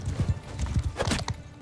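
Horse hooves clip-clop in quick uneven beats during a Mount & Blade II Bannerlord battle, fairly close, with a brief neigh-like burst near the end.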